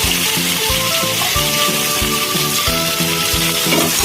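Katla fish fries in hot oil in a pan, giving a steady, close sizzling hiss that runs throughout under rhythmic background music.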